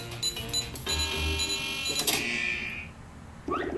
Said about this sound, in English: So many beepings. Stop beeping.